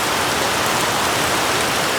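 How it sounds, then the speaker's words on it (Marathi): Heavy rain pours down outside near a shop, filling the air with a loud, unbroken roar of dense hiss that stays constant throughout, with no voices. "पाऊस बघा किती लागतो आहे"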